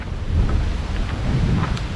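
Wind gusting steadily across a hill path in a Scottish valley, a continuous low rumble buffeting the microphone with slight surges, no voices.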